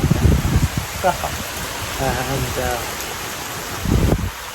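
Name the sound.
rain falling in a park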